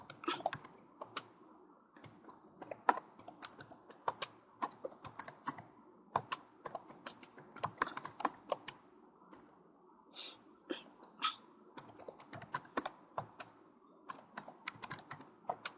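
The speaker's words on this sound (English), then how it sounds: "So let's type that." Fingers tap a computer keyboard in quick, uneven bursts of close, crisp key clicks, with short pauses between words and a quiet room behind.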